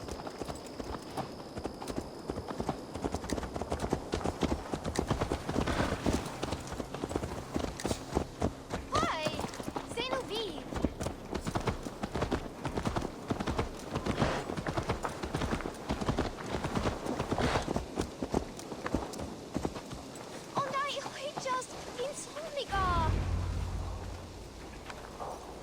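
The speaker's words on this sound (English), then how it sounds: "Let's return the horse." In Assassin's Creed Valhalla, a horse's hooves clip-clop in a steady trotting rhythm for most of the span, loud and close, with occasional game sounds and voices mixed in before slowing near the end.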